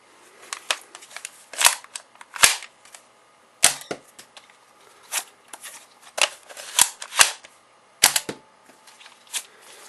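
A stock Sharp Shot spring blaster firing repeatedly, with sharp snapping shots mixed with clicking and rattling as it is cocked and reloaded, all close by and without talk.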